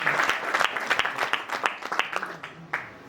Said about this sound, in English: Let's clap him and clap for him and celebrate